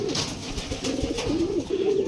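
Pigeons kept as pets in a small, repurposed backyard space coo in soft, repeated low calls. The cooing carries on steadily for about two seconds at moderate loudness against a faint background hiss.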